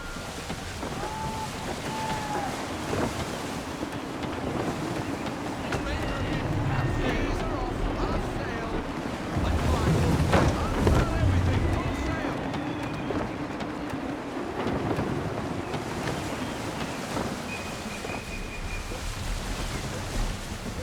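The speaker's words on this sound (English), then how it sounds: "Wind looks to be shifting. Stay alert, Connor. Gusty winds can be difficult to manage." Gusty wind whooshes over a sailing ship at sea in Assassin's Creed 3, with a broad steady rush of air and water swelling midway and distant creaks, while a character talks over it.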